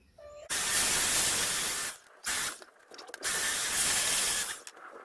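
Compressed air blowing debris off the deck of a John Deere F525 lawn mower, loud close hissing blasts in three long bursts separated by brief pauses, with no talking.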